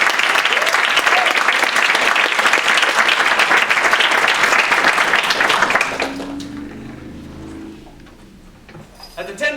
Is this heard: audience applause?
yes